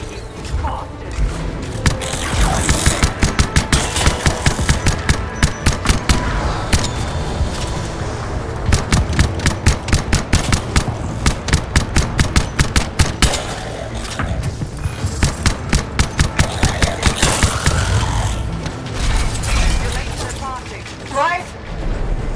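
Gunfire and battle in the Anthem video game: dense, loud rapid bursts of shots and impacts rattling in long volleys, with booms and mechanical noise and voices talking over the fighting.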